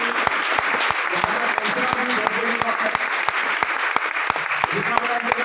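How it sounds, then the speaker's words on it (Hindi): Energetic applause from a crowd at a sales training program, dense continuous clapping with sharp individual claps standing out, loud and sustained throughout. "लोग अपने लिए एक बार जोरदार ताली बजाएं।"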